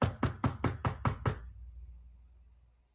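Seven rapid, hard knocks on a door in an even rhythm, loud and close, followed by a fading low rumble and silence.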